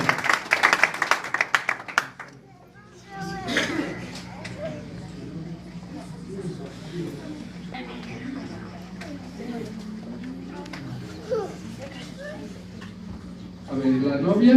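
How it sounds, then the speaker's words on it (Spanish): A brief burst of clapping from guests at a wedding signing opens, lasting about two seconds before it stops and people talk over quieter room sounds, with a little more clapping near the end. "Fuerte aplauso para el hermano."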